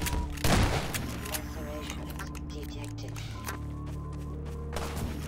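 Video game gunfire crackles in a burst of rapid shots, then continues as scattered firing under excited voices talking, with game music in the background.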